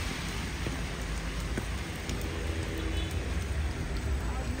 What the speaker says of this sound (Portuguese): Chegamos, chovendo.